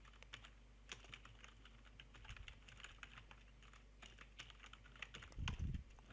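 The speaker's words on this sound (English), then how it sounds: "Now you have to type in your password twice." Typing a password on a computer keyboard: quiet, irregular key clicks in short bursts, fairly close, ending with a slightly heavier keystroke thump, with no talk over it.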